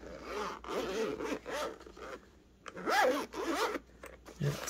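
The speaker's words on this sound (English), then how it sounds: "Let's get a listen of that zipper." Zipper being drawn on a cloth carrying case for a Nacon Revolution Unlimited Pro controller, several short rasping pulls close up, with brief talk in between.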